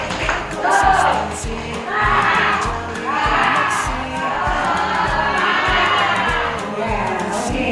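A classroom group claps together in a rhythmic spirit clap, repeated bursts of patterned hand claps over a steady pulse, mixed with some voices and cheering.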